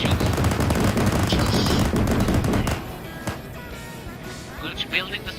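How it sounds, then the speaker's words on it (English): Vehicle weapons in the game Arma 3 fire in rapid, dense bursts of gunfire for nearly three seconds, then drop off to scattered quieter shots and rumble with voices over the radio. "Keep driving forward, open fire with everything."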